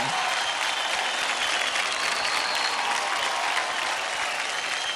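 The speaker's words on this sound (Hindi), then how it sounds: "जोरदार ताली हो जाए।" Loud, dense applause fills a large hall at a televised Indian dance show, a continuous roar of many hands clapping at once, steady and unbroken throughout with no voices on top.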